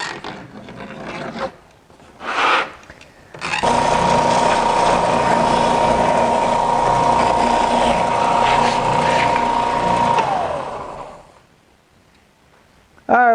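A power sander grinds steadily along the edge of a Power Wheels C7 front splitter, a loud continuous rasping whir lasting several seconds before cutting off, with brief quieter scraping beforehand.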